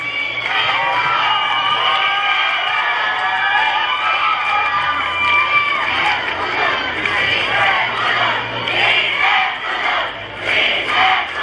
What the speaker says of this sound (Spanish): Que se escuche ese fuerte aplauso para la señorita Flor Purépecha 2016